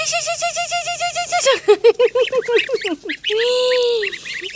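Geese honk loudly in a close flock, a rapid series of nasal calls followed by a few sharp squawks and one long drawn-out honk.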